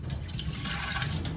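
Cold tap water runs steadily in a kitchen sink while tomatoes are rinsed under it, a continuous soft splashing hiss at low volume with no break.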